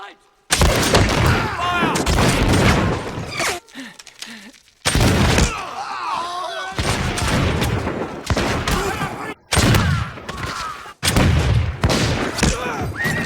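Dense volleys of gunfire erupt in bursts from battle scenes in the film The Patriot (2000), with short quiet gaps between them. Voices can be heard over the shooting.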